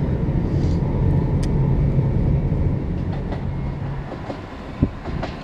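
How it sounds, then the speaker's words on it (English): A train rumbles steadily nearby, then its noise gradually thins as it departs the station toward Grays, London, with scattered clicks and a sharp clank near the end. "Well, that's our train departing"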